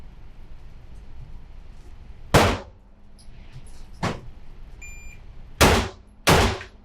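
Four loud, sharp gunshots fired on a live outdoor shooting range, split into one shot, a second after a pause, then a quick closing pair, with faint distant shots from other shooters between them.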